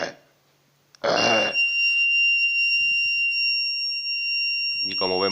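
A homemade anti-snoring electronic circuit sounds a continuous, piercing high-pitched beep for about four seconds, set off right after a loud human voice imitates a snore, with another voice sound near the end.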